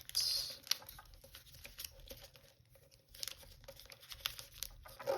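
Origami paper is folded and creased by hand, giving soft crinkling and crisp, tearing-like rustles in irregular bursts, close and fairly quiet.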